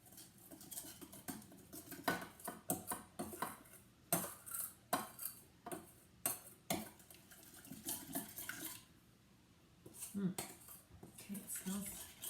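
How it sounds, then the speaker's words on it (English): A utensil scrapes and clinks against the metal insert of an Instant Pot while spices are mixed, a close run of rhythmic clatters and scrapes that pauses briefly before resuming. "now I'm just going to mix it up a little bit"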